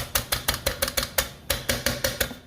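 Rolling pin crushing crackers inside a plastic bag, a quick series of about a dozen sharp crackling whacks in an even rhythm, close and loud with no talking.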